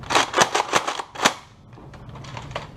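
A Nerf Mega Rotofury blaster slam fires darts in a quick run of five sharp, close pops, followed by quieter mechanical clicks and rattles.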